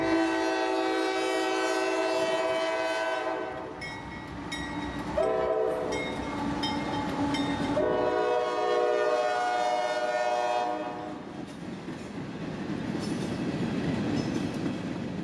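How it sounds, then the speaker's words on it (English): A southbound freight train of empty flip-top phosphate hoppers runs through Florida's Bone Valley, its horn blaring in long loud blasts over the rumble of the locomotive and the rattle and clatter of passing cars. "B311 heads south with empty flip-top phosphate hoppers"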